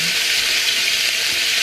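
Pork frying in a covered pan for pancit, a steady bright sizzle with no break that stays loud and close throughout.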